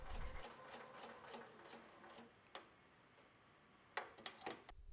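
Sewing machine stitching a swimming costume, a fast rattling run of stitches that slows and stops, followed by a few scattered clicks and taps, quiet and close.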